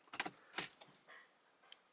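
Keys and the key fob of an Audi SQ5 jingle in a few quick metallic bursts close up inside the car, followed by softer clicks in a quiet cabin.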